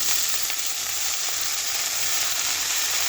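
Chopped onion and mixed greens such as stem and gourd leaves hitting hot oil with mustard and chilli, a loud, dense, unbroken hiss of frying that fills the whole stretch.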